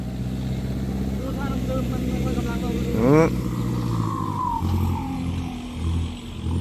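Farm tractor engine running in second gear, a steady loud drone with a brief rising whine midway, as people talk close by over it.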